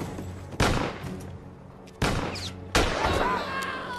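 Gunfire in an action movie: three loud, close gunshot blasts, each followed by a short ringing decay, with a brief pause between the first and second shots.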